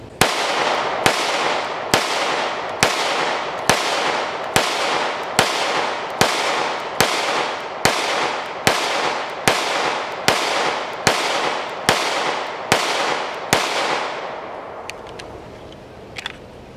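HK VP9 pistol fired at a range during a magazine function check, seventeen sharp evenly spaced shots in steady rhythm, loud and close with no talk.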